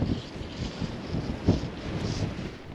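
Steady wind gusting across a microphone on a riverbank where someone is fly fishing, a continuous broadband rush with no speech.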